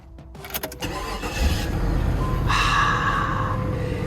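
A Nissan President with a large V8 gets its first start of the morning, a brief starter crank catching into a roar, then settling into a steady, close idle.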